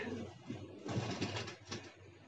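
A female pigeon in a loft gives a few low, soft coos, fairly close but quiet against a noisy background.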